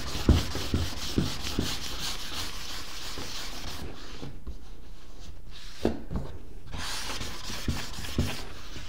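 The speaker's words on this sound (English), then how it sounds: "I don't like the surface there. I just need to sand it a little bit." Hand sanding of a surface during a build of a hot wire styrofoam cutter produces a continuous close rasping rub with brief pauses and occasional knocks.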